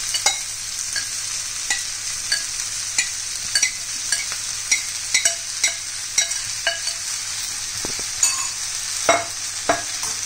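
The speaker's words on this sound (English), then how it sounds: "Now add finely chopped dried bhindi, okra into this." Finely chopped dried okra fries in a hot pan with a constant bright sizzle, broken by light, irregular scraping stir strokes, close and steady, without voices.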